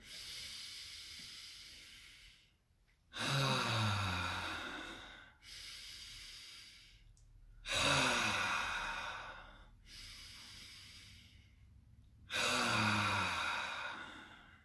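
Slow, deep yoga breaths heard up close, three long hissing inhale-exhale cycles, each swelling loud and then easing off, with no talking.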